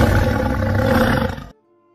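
A big tiger roars loudly as a sound effect in a narrated Korean folk tale. The single sustained growling roar lasts about a second and a half, then cuts off sharply into silence.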